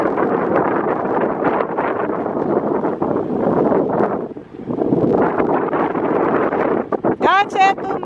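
Strong, steady wind buffets the microphone in a continuous roar, briefly easing midway, with a short voice near the end.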